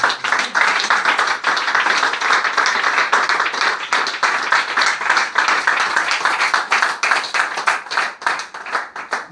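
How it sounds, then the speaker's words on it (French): A church congregation applauds the Lord with loud, dense, continuous clapping, many hands close by keeping up a steady rhythmic roar for the whole stretch, no cheering voices standing out. "Acclamons très fort pour le Seigneur."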